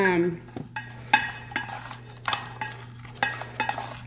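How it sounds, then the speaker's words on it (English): Homemade laundry soap powder with Oxy Clean and baking soda being stirred and mixed around in a jar, a series of close, quiet scraping and tapping strokes at an irregular rhythm, with no talk. "just kind of mix it around into the jar"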